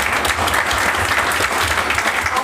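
People at a county commissioners' court meeting applaud a historic preservation award, a brief burst of dense, even clapping at full strength throughout.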